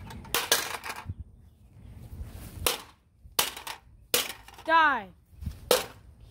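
A cheap 99-cent toy cap gun fires caps in sharp, loud snapping cracks, spaced irregularly across the clip, with a short spoken word and a warbling vocal sound between shots.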